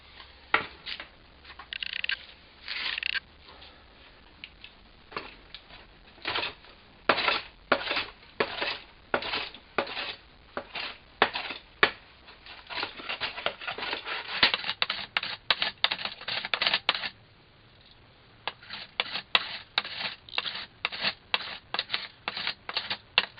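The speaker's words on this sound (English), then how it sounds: "I've just give it a few strokes on the leather strap" A woodworking blade stropped on a leather strap glued to an MDF board, a run of quick rhythmic scraping strokes in bursts with brief pauses, close and fairly crisp.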